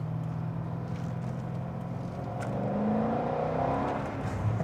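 Corvette C6 Z06 sports car accelerating on a damp day, a steady engine drone climbing in pitch and swelling louder toward the end, heard alone without talk.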